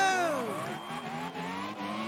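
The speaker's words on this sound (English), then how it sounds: "The red lights come on, the engine revs rise, and it's go, go, go!" Formula One cars of the 1991 Portuguese Grand Prix roaring away from the start, several engines screaming and dropping in pitch as they shift up, loud and layered together.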